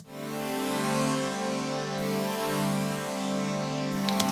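A single sustained synthesizer chord holds steady for several seconds, rich and even, with no voices.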